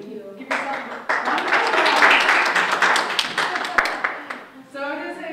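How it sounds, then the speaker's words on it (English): A graduation audience at a MassHire CNA ceremony claps in a burst of applause that swells and then fades, with a voice speaking at the end. "Give yourself a round of applause."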